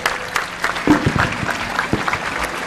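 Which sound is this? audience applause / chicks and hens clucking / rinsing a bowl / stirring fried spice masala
audience applause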